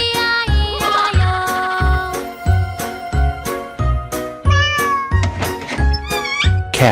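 Cartoonish meows from a cat in a children's farm song repeat in a steady rhythm over bouncy music with jingling chimes, each meow bright and close and sounding alone without singing.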